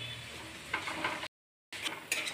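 A spice paste of onion, garlic and ginger fries in a pan, giving a faint, steady sizzle with soft stirring scrapes and a brief silent gap partway through.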